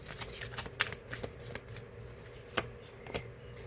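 A Korean flower oracle card deck being shuffled close up, with soft riffling flutters broken by a few sharper card slaps in an irregular rhythm, alone and fairly quiet.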